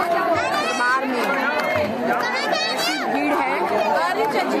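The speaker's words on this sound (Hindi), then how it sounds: "भीड़ है" Dense crowd chatter fills the courtyard of the Radha Rani temple in Nandgaon, many overlapping voices and calls, steady and close, with occasional higher shouts rising above the murmur.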